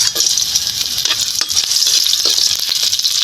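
Ginger, garlic and onion sauté in a hot pan, giving a steady bright sizzle with scattered stirring scrapes and light rattles close by, no voices over it.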